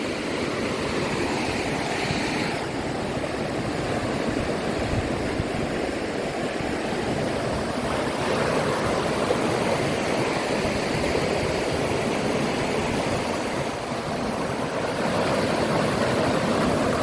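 Lower Duden Waterfall plunging off the cliffs in Antalya, a steady, dense roar of falling water that holds at the same loudness throughout with no break.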